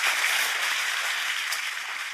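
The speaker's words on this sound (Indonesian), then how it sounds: "Berikan tepuk tangan kita untuk Tuhan kita." A church congregation at a worship sermon gives a round of clapping, a soft, even wash of many hands heard from a distance without pause.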